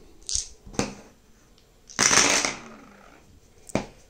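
Dice rolled for the D-Day Dice board game, several quick rattling, clattering bursts with pauses between them, fairly close, no speech.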